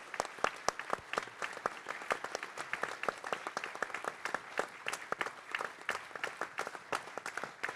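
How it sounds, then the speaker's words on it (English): Audience applause at a Band of Brothers 25th anniversary symposium, a crowd clapping in a crisp, rapid patter that stays fairly quiet and even throughout. "let's have a round of applause for these guys that we weren't able to focus on"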